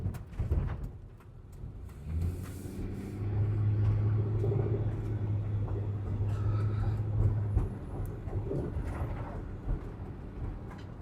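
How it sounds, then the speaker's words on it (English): Road traffic rumbles steadily nearby as vehicles pass, with a low droning hum that swells and fades over several seconds and some scattered clatter on top. "pardon all the traffic noise"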